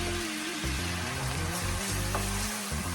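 Shallots and vegetables frying in oil, a steady close sizzle with bubbling crackle throughout and faint stirring, no voices.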